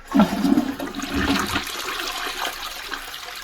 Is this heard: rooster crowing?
no